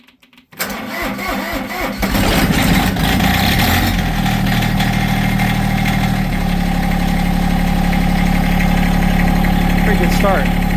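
Diesel loader engine cranking briefly after its glow plugs are heated, then catching and settling into a loud, steady close-up idle with a low rumble throughout.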